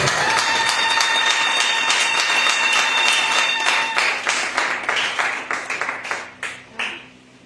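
A church congregation applauds in praise during worship, dense sustained clapping with a sung tone underneath that thins into scattered individual claps and dies away.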